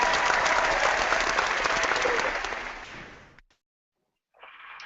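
Applause, a loud, dense burst of clapping that runs steadily for about three seconds and then fades out, followed by silence and a brief rise of a different sound.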